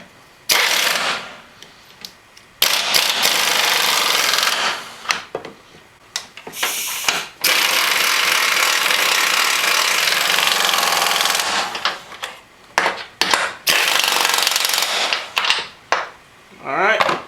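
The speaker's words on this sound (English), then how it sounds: "grab my impact wrench and just tighten those down with that" Pneumatic impact wrench hammering wheel or pulley nuts tight on a Chevy Cruze 1.4L Turbo, in several loud sustained bursts of rattling with short gaps and a few clicks between.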